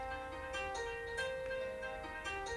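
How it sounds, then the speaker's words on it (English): An alarm clock rings quietly with a steady, sustained electronic melody. The tones shift in pitch at regular intervals, with no talking over them. "That is my alarm clock."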